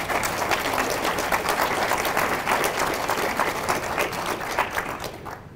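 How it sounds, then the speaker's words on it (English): Audience applause for students at a high school underclassmen awards night, a steady dense wash of clapping from a crowd that fades slightly at the end. "Let's get things started off right with a round of applause for these wonderful students."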